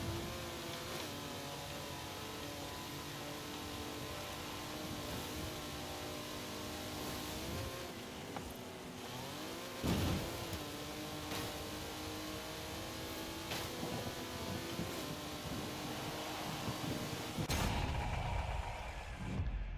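A Lamborghini in the racing game Forza Horizon 5 roars continuously as its engine revs and shifts, pitch sweeping up and down over about twenty seconds with a few sharp thumps, loud and with no talk.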